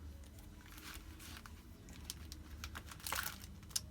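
A small plastic bag of goodies from a swap package crinkles and rustles close by in soft, irregular bursts, quiet and without speech.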